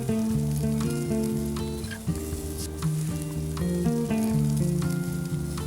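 Chicken pieces for teriyaki sizzle steadily in a hot pan, a continuous close frying hiss with a few small pops, under a layer of background music.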